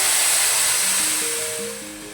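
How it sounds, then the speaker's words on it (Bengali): Water poured into a pan of hot caramel for lachha semai made without milk: a loud, steady rushing hiss and bubbling that eases off toward the end, close up with no speech. "এবার আমি এটার মধ্যে আজ দুধ দেব না, আমি এটার মধ্যে সম্পূর্ণ জল দিয়ে করব।"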